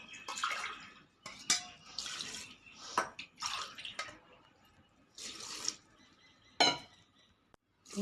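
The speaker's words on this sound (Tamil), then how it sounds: "ஒரு 4 டம்ளர் தண்ணி ஊற்றிக்கலாங்க" Water poured from a tumbler into a cooking pot of drumstick leaf soup with shallots, cumin, pepper and coriander, heard as several splashy bursts with clinks of vessels in between, close and fairly quiet.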